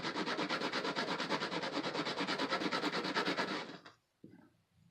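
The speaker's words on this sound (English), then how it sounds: "Just have to hang on to it with your fingertips and rub back and forth." Fingertips rub a small tin piece back and forth over a sanding block to flatten it, making a steady, rapid rhythmic rasping scrape close up, stopping abruptly near the end with a faint follow-up rustle.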